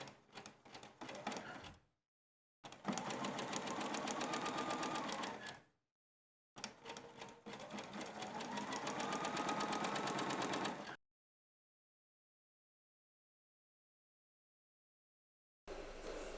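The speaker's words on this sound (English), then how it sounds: "Then machine along the fold." A domestic sewing machine machines along the folded hem of a coat in rapid, rhythmic stitching bursts of a few seconds each, separated by silent pauses, then a short final run starts at the end.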